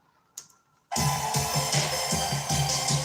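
A bright, shimmering tone from a fairly old electronic keyboard with a watery, reverb-soaked quality, entering after a brief click and then sustaining steadily with gentle pulsing.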